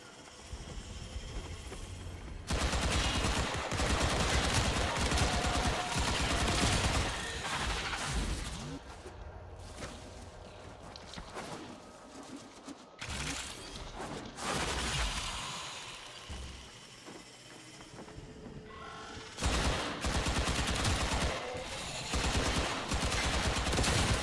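Gunfire in the shooter game Warframe: long loud bursts of rapid automatic fire with short pauses between them, dense and close, no voices over it.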